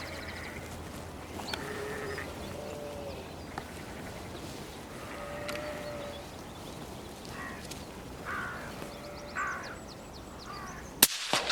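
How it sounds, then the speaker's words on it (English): A hooded crow lands in a field near lambing sheep, giving a few scattered caws against a steady outdoor background of wind and faint distant calls, with a brief knock near the end. "a hooded crow quietly lands into the field"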